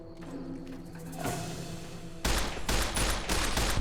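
Gunfire in Fallout: New Vegas, heard as a rapid run of sharp, loud shots in the second half, preceded by a quieter stretch of game ambience with soft thuds.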